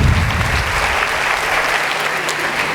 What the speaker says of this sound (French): Absolument, il mérite des applaudissements.